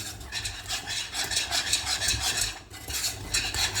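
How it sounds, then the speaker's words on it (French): A utensil stirs caramel in a pan, producing continuous rhythmic scraping and rubbing strokes, soft and close, with a brief pause partway through. "Vous pouvez bien mélanger."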